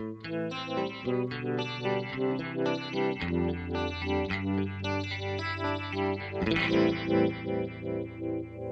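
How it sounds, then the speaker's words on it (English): An electric guitar strums chords through an Electro-Harmonix Stereo Electric Mistress flanger pedal, a sweeping, whooshing modulation with some distortion, the tone swirling steadily over several bars. "see if we can get kind of a classic flanger"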